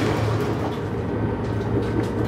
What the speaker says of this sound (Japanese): まもなく列車が久坂井峠を上り、久坂井駅を通過いたします。